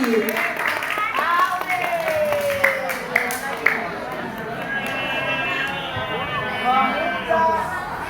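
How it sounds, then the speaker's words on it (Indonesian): A school audience claps for a student contestant at a poetry recitation, the applause mixed under a speaking voice throughout. "Tepuk tangan untuk Awi."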